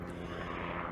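A helicopter passes over a city trail, its loud, steady engine and rotor drone filling the whole second with dense, unbroken noise and no voices.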